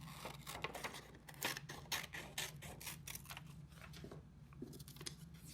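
Scissors snip repeatedly through paper pieces for a crown craft, a quick run of crisp cuts close by over a low steady hum, with no talking.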